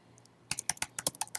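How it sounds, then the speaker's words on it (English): Quick, crisp keystrokes on a computer keyboard while entering text into a spreadsheet, a close, quiet burst of about a dozen taps after two faint early clicks. "then I'll start typing something in there so you can see"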